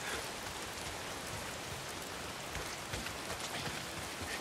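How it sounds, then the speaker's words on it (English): Steady rain pours in the open-world game Days Gone, a dense continuous hiss of drops spattering surfaces, loud and close throughout with no voices. "It's the goddamn rain. Why is it always raining?"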